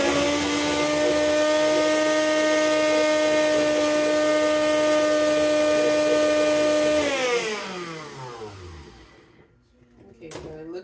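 A blender making almond butter whirs steadily and loudly with a strong harmonic hum, then winds down, its pitch sliding lower as it stops; a brief clatter follows.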